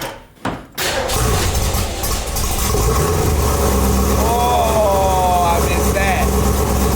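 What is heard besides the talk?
1967 Ford Mustang V8 engine starting and rumbling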